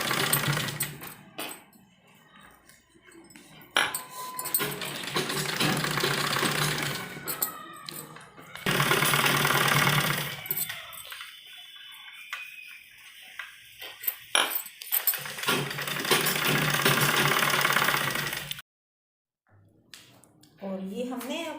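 A sewing machine runs in long steady buzzing bursts while stitching along the edge of a trouser strip, pausing between runs, with someone talking quietly in the gaps.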